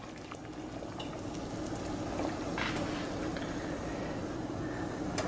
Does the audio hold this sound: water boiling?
yes